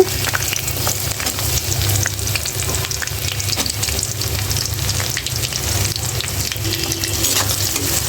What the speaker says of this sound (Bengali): এখন কয়েকটা শুকনো মরিচ দিয়ে দিলাম হালকা একটু বেজে নেব এখন এখানে পেঁয়াজ দিয়ে দিব